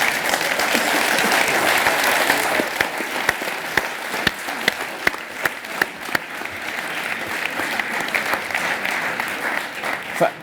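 A debate audience applauds after a comment in an EU referendum debate, sustained loud clapping from a large crowd with a few sharper individual claps standing out near the end.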